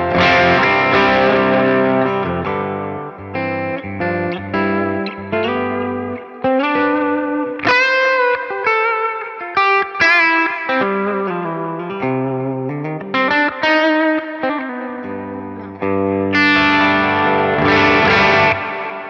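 A Music Man Rabea Massaad Sabre electric guitar played through its bridge pickup with heavy distortion delivers loud chugging riffs and ringing, sustained chords with chorus-like shimmer and echo, played alone without talk.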